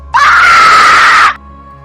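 A loud, sustained scream as a demon-possessed woman cries out in a horror story: one shrill continuous shriek of about a second, starting abruptly and cutting off just as sharply over a low background hum.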